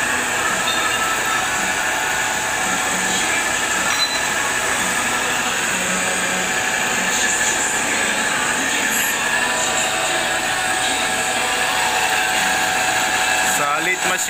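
A carton cutter machine cutting cardboard: a loud, continuous mechanical whir and high-pitched grinding drone that holds steady throughout, with faint voices in the background.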